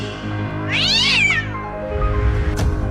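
A cat lets out a loud, harsh screech that rises and falls over about a second, followed by a short sharp noise, with a low background hum throughout and no talking.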